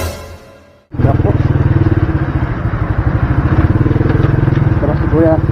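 A motorcycle engine on a rough road suddenly kicks in and then labors with a loud, rapid pulsing chug that holds steady, with a rider talking over it.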